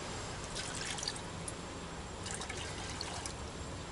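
A little water poured into homemade tomato soup made with garden tomatoes, heard as a soft, steady trickle with light drips, fairly quiet and continuous with no talking.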